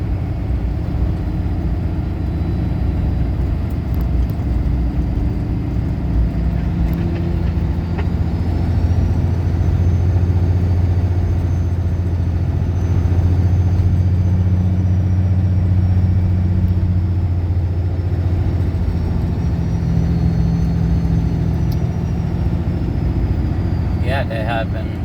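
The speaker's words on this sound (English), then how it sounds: "it's a loud truck going by" A loud truck passes on a road beside a woodcutting site, a steady low engine rumble that swells and fades across the whole stretch, near and heavy, with no voices over it.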